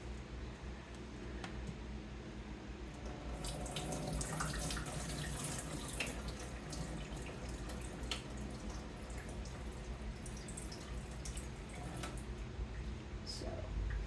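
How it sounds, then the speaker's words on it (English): Boiled potatoes are poured into a sink to drain, giving a continuous rush of splashing water with spattering drips throughout, fairly close and steady. "I'm going to drain the potatoes and then put them in and add my broth stock."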